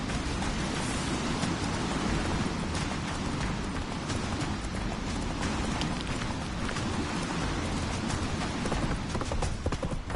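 Hooves of Roach, a horse in The Witcher 3 game, pound in a fast steady clip-clop rhythm, loud and continuous under a noisy wash, with no talk.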